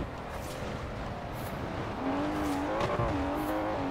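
A Maserati Levante engine in Forza Horizon 4 drones steadily close up, its pitch climbing and settling as the SUV accelerates, with faint tire noise underneath.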